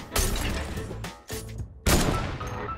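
Heavy sniper rifle shots in a video game trickshot map: several sharp, loud blasts with reverberant tails, one near the start, one midway and a final strong crack near the end, with no talk.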